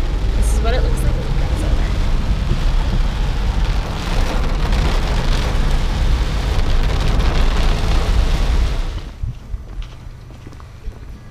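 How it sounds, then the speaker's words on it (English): Heavy tropical rain near the Daintree River in north Queensland pours in a dense, loud, steady hiss, then cuts off abruptly near the end, leaving faint ambience. "Look at all this rain."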